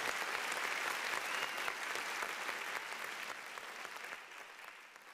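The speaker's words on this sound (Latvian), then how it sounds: "Man patīk aplausi." An awards-ceremony audience in Latvia applauds in a dense, steady burst of many hands clapping, which fades gradually over about five seconds.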